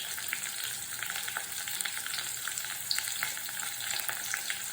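Sliced onion and green chillies frying in a pan for rasam, a steady crackling sizzle with faint stirring, close and continuous with no talking.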